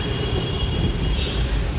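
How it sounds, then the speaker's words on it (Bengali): A metro rail train passing overhead on an elevated track toward Salt Lake sector, a loud, steady rolling roar filling the short stretch. "উপর দিয়ে মেট্রো রেল যাচ্ছে সল্টলেক সেক্টরের দিকে।"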